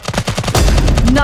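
Rapid automatic gunfire in a third-person shooter mobile game on Android rattles in a fast burst of close, loud shots, then gives way to a heavy booming blast and a rising whine.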